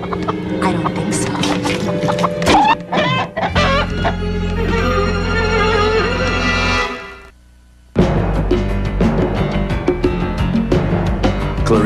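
A chicken clucks amid a busy comedic theatre scene, its calls mixed with loud music and other effects, with a short drop to near silence before the noise resumes.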